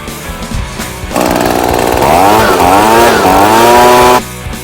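A loud, steady lawn mower engine roar kicks in and holds for about three seconds with a wavering pitch, then cuts off abruptly; quieter rumbling before and after, while mowing Bermuda grass.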